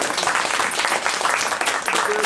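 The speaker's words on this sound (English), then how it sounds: "so please give yourselves a round of applause." A live show audience breaks into loud, dense applause that fills the whole moment, many hands clapping at once with a voice talking over it.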